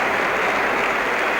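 Cricket crowd applauding Clive Lloyd's West Indies innings, a steady, dense wash of clapping that holds loud and even throughout with no voices above it.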